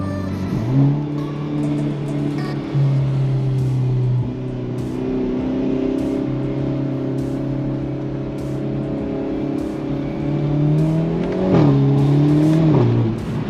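A Hyundai Elantra N accelerates hard in sequential mode, its engine droning loud and close as it pulls through the gears, with brief dips at each shift and a rising surge near the end.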